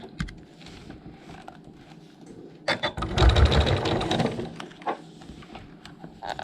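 A sewing machine stitches a pillow cover with an invisible zipper. After a few faint clicks it runs in one fast, motor-driven burst lasting a second or two, followed by a few light taps.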